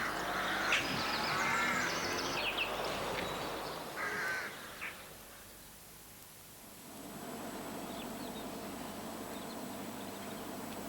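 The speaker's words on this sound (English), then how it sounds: "Rooks are with us all the year round, with numbers estimated at around 3 million birds." Rooks, resident British country birds, give harsh caws in a busy burst early on, then quieter scattered calls over steady broadband background noise, with no talk.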